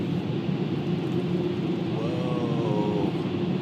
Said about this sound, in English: we just got to go through the dryer and that's it.